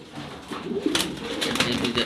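A pigeon pair in a Dhaka loft coos in a low, steady murmur, close and moderately loud. A burst of rustling and flapping flares up through the second half.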